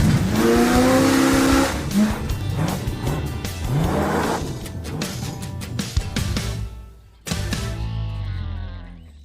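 A Chevelle car engine running and revving hard, loud and close, with rising and falling revs, tire squeal and bursts of acceleration, cutting out briefly before roaring again.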